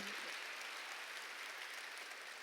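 Steady applause from a church congregation fills the whole stretch, dense and even with no pauses, fairly distant and soft.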